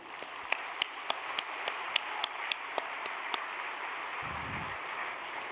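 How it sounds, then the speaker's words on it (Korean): A congregation applauds in congratulation at a religious gathering, a steady wash of clapping with a few sharper claps standing out throughout, moderately distant and even in level. "여러분 축하의 박수 한번 올려드리겠습니다."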